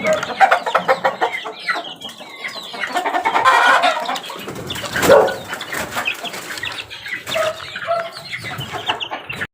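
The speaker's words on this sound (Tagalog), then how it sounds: "natapos ko ng patakan yung bibig ng aking mga sisiw at andito sila sa balde" Asil Gold chicks crowded in a bucket peep and chirp constantly, loud and close, with bursts of overlapping cheeping and some scuffling.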